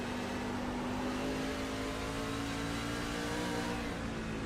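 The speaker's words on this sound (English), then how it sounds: "you just listen how easy on and off they get on the throttle, and then how quickly they get back on the gas" Racing truck engine in a sim racing game, a continuous whirring roar with slight swells as throttle is eased and reapplied, steady and fairly distant with no voices.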